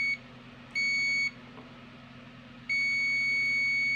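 Digital multimeter continuity buzzer sounding while probing an amplifier transformer winding: two steady high-pitched electronic tones, a short one and then a longer sustained one, over a low background hum.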